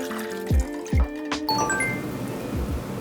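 Water poured into a heavy pot for hard-boiling eggs, heard as a few short splashing gushes and drips at close range, followed by a softer liquid trickle.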